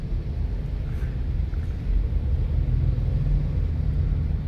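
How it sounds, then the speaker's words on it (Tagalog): Heavy road traffic on EDSA in Metro Manila, heard as a constant low engine rumble from inside a moving vehicle, steady and loud with no distinct horns. "matindi ang traffic."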